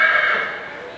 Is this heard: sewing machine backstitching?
no